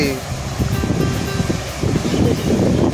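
Sea surf rolling onto the beach at Mousuni Island, a steady broad wash of breaking waves mixed with gusting wind noise, fairly loud and continuous for the whole stretch.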